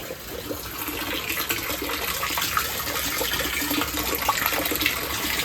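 Water pours and splashes steadily into a repurposed olive barrel used as a rain barrel, a continuous gushing flow close by with no voices.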